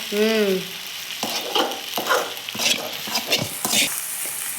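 Food frying hard over a high gas flame in a pan, stirred with repeated scraping strokes under a steady sizzle; a brief tonal voice-like sound opens, then close, fairly loud stirring continues alone.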